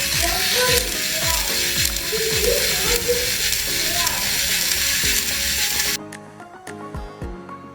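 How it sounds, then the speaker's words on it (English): BLIX plastic gear clock mechanism driven by a 60 rpm motor, close rapid ratcheting clicks and gear whirring, loud and continuous, then stopping abruptly into sparse quieter clicks. "So this is the motor which is running in 60 rpm, 60 rotation per minute"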